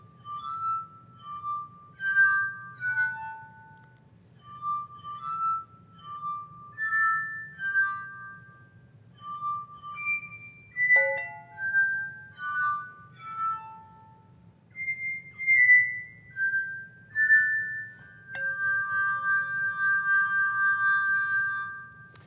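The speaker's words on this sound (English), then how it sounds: "I'm accidentally making some noise as I accidentally knock the glasses back and forth" Drinking glasses ring with clear, sustained tones, struck one after another in an uneven rhythm. Two sharper clinks cut in partway through, and a long shimmering ring holds at the end.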